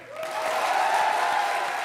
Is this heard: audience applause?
yes